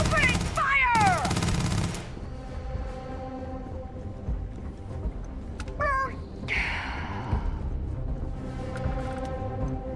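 Gunfire in Starfield: loud bursts of shots near the start, then scattered rattling fire with sharp electronic whines and battle noise continuing at a moderate level.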